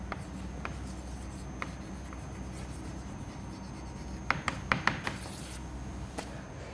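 During a fluid mechanics lecture on boundary layer equations, equations are written on a board with soft scratching strokes and a cluster of sharp taps, faint and close in a quiet room.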